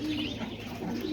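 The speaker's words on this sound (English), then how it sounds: "because I had these white pigeons. They started making a nest." White pigeons coo from a nest in a backyard loft, a low, steady, close warble running throughout with soft bird chatter layered over it.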